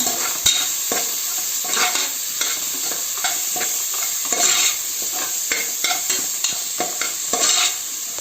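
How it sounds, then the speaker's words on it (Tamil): Ginger garlic paste sautéing in a pan for a traditional mutton gravy, with a loud steady sizzle and repeated spoon scrapes and stirring taps, no talking. "இஞ்சி பூண்டு பேஸ்ட் போட்டு கொஞ்சம் வதக்கிடுங்க."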